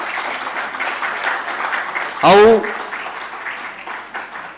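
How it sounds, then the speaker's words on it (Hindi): An audience applauds an actor after a stage play in the Raipur–Bilaspur region, steady clapping running throughout with a brief loud voice breaking in midway. "अभिनय, जोरदार ताली से अभिनंदन करो।"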